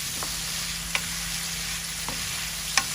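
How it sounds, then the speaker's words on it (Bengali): Potatoes sauté in a pan as a spinach and shrimp curry comes together: a steady low sizzle runs throughout, broken by a few brief clicks of a spatula scraping, with no talking. "আলু দিয়ে কষানো হয়ে গেছে সুন্দর হচ্ছে কষানো"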